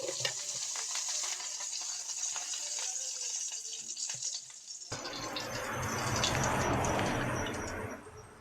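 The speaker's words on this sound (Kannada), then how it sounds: "ಇವಾಗ ಒಂದು ಪಾತ್ರ ಬಿಸಿ ಇಟ್ಕೊಂಡಿದ್ದೀನಿ. ಅದಕ್ಕೆ ನಾನು 1 ಸ್ಪೂನಷ್ಟು ತುಪ್ಪ ಹಾಕ್ತಾಯಿದ್ದೀನಿ." Spoonful of ghee sizzling in a heated pan while cooking for ragi rotti with prawn palya; a quieter crackle gives way to a louder, steady fizzing hiss that fills the second half, with no talking.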